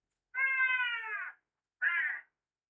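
A cat gives two loud, close meows, the first long and drawn out in an angry, complaining tone, the second shorter after a brief pause.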